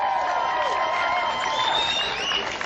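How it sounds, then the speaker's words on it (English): Audience clapping and cheering at an anti-war rally, a steady dense wash of applause with crowd voices throughout. "Stop clapping."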